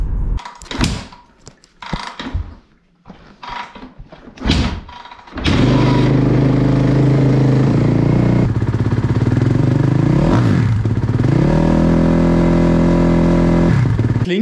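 A motorcycle engine starts up after a few seconds of clattering and handling noises, then settles into a loud, close, steady idle with a couple of revs that swell and drop back.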